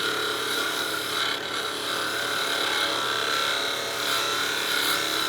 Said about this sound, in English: Now I'm going to grab my narrow parting tool and just decrease the size of this little tenon here.